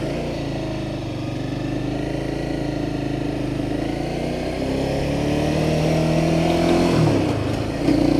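A 2015 Honda CBR 300R motorcycle being ridden, its engine droning steadily with rising pitch as it accelerates, then a brief drop and shift to a new gear near the end, heard close and continuous.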